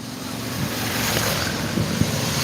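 Steady rushing water and motor hum of a boat moving along, with wind buffeting the microphone and a few soft knocks near the end.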